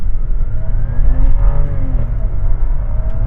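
Rolls-Royce launching hard from a standstill in low mode, its engine note a smooth, muted rising hum with gear-linked pitch sweeps, heard from inside the cabin, steady and fairly loud with no talking.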